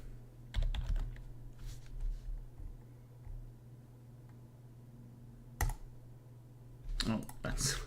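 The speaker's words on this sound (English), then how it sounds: "why am I typing that there?" Keyboard typing during a live modding session for Age of Empires IV: scattered clusters of key clicks, with a short burst early, a sharp tap midway and a busier flurry near the end, over a low steady hum.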